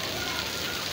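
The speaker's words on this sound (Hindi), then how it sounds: "ओले गिर रहे हैं आज लाहौर, बारिश फुल तेज़ बारिश और ओले गिर रहे हैं" Heavy rain mixed with falling hail pours down in Lahore, a loud, dense, unbroken hiss of drops striking surfaces close by.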